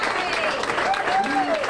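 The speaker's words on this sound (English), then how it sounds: "Can we get a round of applause for that?" An audience at a store opening event applauds, a dense wash of clapping heard close and continuous, with a voice speaking over it.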